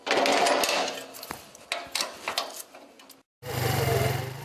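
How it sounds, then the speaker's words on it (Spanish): A small motorcycle engine runs steadily up close, dropping out for a moment before roaring back with a low, continuous drone. "Esa es la moto"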